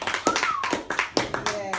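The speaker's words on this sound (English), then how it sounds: "Should we give Theo a round of applause?" A small audience at a business photography presentation claps for a presenter, with a handful of sharp, irregular hand claps close by, fairly quiet and brief.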